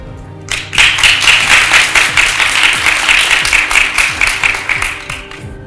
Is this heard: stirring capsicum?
no